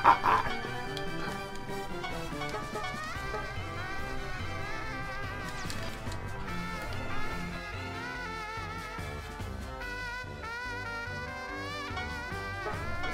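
A chicken character in Disgaea 3 clucks and crows in short bursts over a busy, tuneful game music background, the bird calls moderately loud and close throughout.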